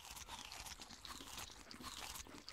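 Quiet crunchy chewing sounds repeat in a quick rhythm as a character munches on food in Ark: Survival Evolved, faint and close with no talking.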